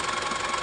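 A car engine, freshly overhauled and with leaking valves, runs at a steady idle with a fast, even ticking throughout, heard up close with no voices.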